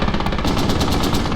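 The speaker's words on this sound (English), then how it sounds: "And MG fire." Sustained machine gun fire in the Squad video game, Irregular Militia against Insurgent battle: dense, rapid bursts of automatic shots rattling continuously at steady loudness with distant gunfire mixed in.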